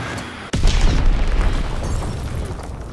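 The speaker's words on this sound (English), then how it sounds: "Enemy bomb incoming. Get to cover." A bomb blast in the World War II shooter game Call of Duty: WWII hits with a sudden loud boom, then a long rumbling, crackling roar that fades slowly.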